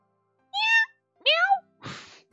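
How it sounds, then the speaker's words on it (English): A cat meows twice in the video game Amnesia Later x Crowd. The two short, clear, close meows are followed by a brief breathy sound. "Meow! Meow! What a fucking meow."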